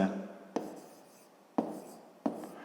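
A pen or chalk writes out a math solution for a 5th-grade geometry exercise. The scratchy strokes are quiet and close, broken by three distinct taps as new marks begin, with no talking.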